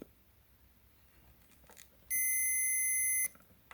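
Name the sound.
multimeter continuity test beeping on a keyboard fuse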